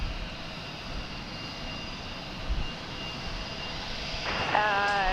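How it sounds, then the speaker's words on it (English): A Japan Airlines Boeing 777, Flight 12 from Haneda, lands at DFW Airport, its jet engines a steady, moderately distant roar, with brief high chirping tones near the end. "the Japan Airlines Flight 12 from Haneda,"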